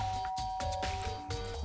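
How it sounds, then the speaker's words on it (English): A doorbell in the video game Danganronpa chimes in a few repeated ding-dong tones with soft background music. "I pressed the doorbell,"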